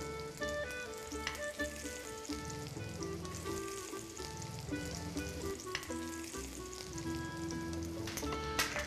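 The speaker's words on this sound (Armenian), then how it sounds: "մի քիչ տապակենք նաև ծնեբեկը" Asparagus and onion fry in a hot pan, a steady close sizzle and crackle running throughout with occasional stirring clinks, no voices.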